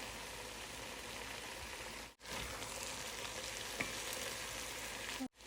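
Roti fries in a pan on a home stove, a soft, even sizzling hiss that runs steadily and cuts out briefly twice, with a faint click partway through and no talking.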